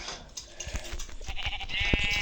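Sheep bleating a few times in Minecraft amid a busy game soundscape of thuds and chimes, moderately loud, with no speech.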